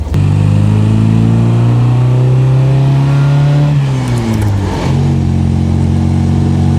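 A 1960s–70s MGB GT Sebring's engine drones loudly from inside the cabin, a sustained rev that climbs, dips as the throttle lifts, then settles back to a steady hum.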